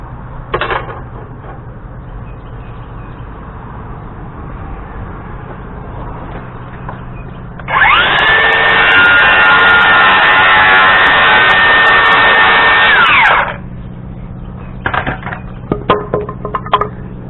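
A power saw bites into a wooden rafter, a loud, sustained buzzing whine lasting about six seconds, bracketed by softer handling clatter and knocks before and after the cut.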